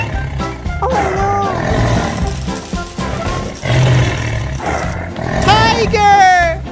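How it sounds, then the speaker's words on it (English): A tiger roars in a cartoon-style scene, a loud growling roar rising under excited, overlapping voices that keep talking throughout. "Tiger!"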